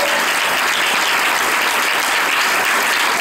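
Loud, dense applause from a church congregation, a continuous wash of many hands clapping together close by, unbroken from start to finish with no talk over it.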